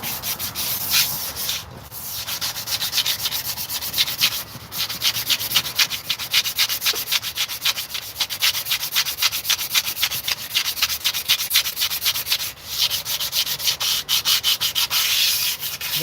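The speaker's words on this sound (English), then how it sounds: "I'm going to sand the drum, get rid of any glazing that's on the drum" Sandpaper scrubs steadily against a cast iron brake drum to remove glazing, a continuous close rasping with rapid back-and-forth strokes and a few brief pauses, no voices.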